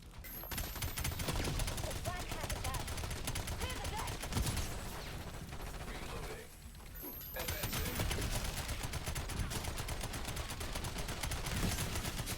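Rapid automatic gunfire in Call of Duty: Black Ops 7, dense sustained bursts nearly throughout with a brief lull in the middle, loud and close.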